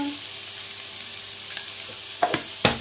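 Onions sauté in a pan with a low, steady sizzle, then a few sharp scrapes of a spoon stirring them near the end, close and fairly quiet.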